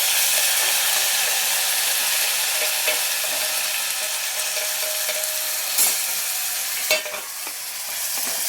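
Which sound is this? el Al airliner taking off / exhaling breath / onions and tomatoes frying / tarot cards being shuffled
onions and tomatoes frying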